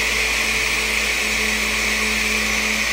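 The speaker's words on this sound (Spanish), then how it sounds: "Se va a dañar la licuadora." A kitchen blender runs steadily at full speed, a loud continuous whir with a high motor whine that holds without a break.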